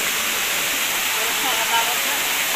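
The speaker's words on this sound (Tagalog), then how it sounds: "Sobrang taas itong falls na to, guys." A tall waterfall in Palawan roars as a steady, broad rush of falling water, loud and continuous throughout with no distinct breaks.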